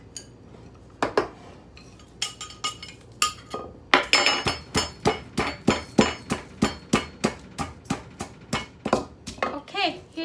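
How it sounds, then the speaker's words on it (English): Thai chili and garlic for som tam are pounded in a mortar, a fast series of sharp, close knocks that grows into a steady rhythmic pounding, with a voice in the background. "And couple pieces of garlic, whatever you like. Smash a little bit."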